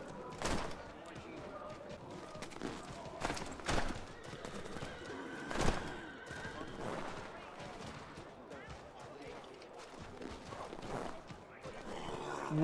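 Horses neigh and whinny in the video game Assassin's Creed 3, with clip-clopping hooves and scattered sharp bangs like gunfire amid a busy, dense game soundscape, heard under a steady background din.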